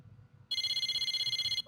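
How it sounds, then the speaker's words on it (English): In the Persona 4 Arena Ultimax video game, a cell phone rings with a rapid, evenly pulsing electronic trill that lasts about a second, clear and fairly loud against a quiet background. "I realized that the beeping wasn't my alarm. It was my cell phone."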